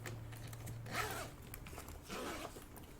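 Zipper pulled along a black and orange zippered case with orange zipper pulls, two quick close rasping zips with handling noise between them.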